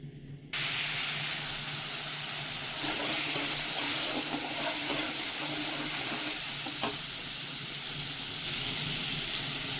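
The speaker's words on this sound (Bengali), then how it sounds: "এখানে আমি মশলাটা একটু জল দিয়ে দিলাম যাতে পুড়ে না যায়" Spice paste of cumin, coriander and chilli powder with salt sizzles steadily in a hot pan after a splash of water, a loud continuous hiss with brief stirring scrapes, no voices.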